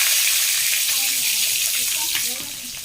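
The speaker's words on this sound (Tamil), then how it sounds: "இப்போ நம்ம போட்டதெல்லாம் நல்லா பொரிஞ்சிருச்சு" Urad dal and dried red chillies splutter in hot oil, a loud, close sizzle dotted with quick pops and crackles, the frying noise easing slightly toward the end.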